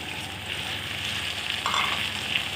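Okra tossed into a pan with onions cooking in very little oil gives a steady close-up frying hiss with faint stirring, alone and with no talk.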